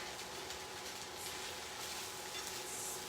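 Cooked Japanese noodles with eggs and vegetables fry in a hot pan, giving a soft, continuous sizzle with faint stirring scrapes, steady and fairly quiet, with no voices.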